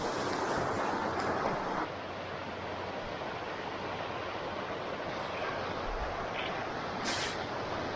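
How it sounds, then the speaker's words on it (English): Steady broadband rush of a mountain river flowing beside a trail camp in the Great Smoky Mountains, a continuous close, even roar from start to finish with no speech. "Sound of the river."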